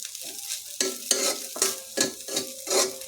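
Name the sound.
leftover noodles being reheated in a pan on the stove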